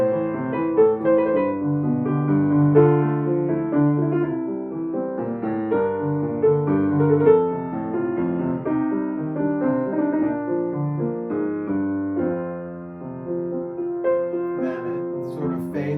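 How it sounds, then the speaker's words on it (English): A solo piano plays an advanced medieval-styled piece in its revised arrangement, with clear, fairly light bass. Steady chords and melodic lines unfold at a moderate pace, softening slightly near the end. "The new version sounds like this."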